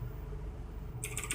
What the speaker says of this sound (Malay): Keyboard ni diorang cakap macam potong bawang.